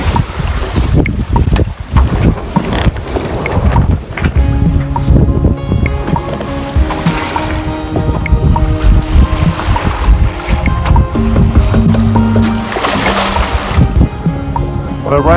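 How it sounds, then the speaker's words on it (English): Strong wind gusting up to 30 knots on a sailboat rounding a cape toward Lisbon, a loud continuous roar of rushing air buffeting the microphone, with water and rigging noise beneath and no talking. "It's gusting up to 30 knots."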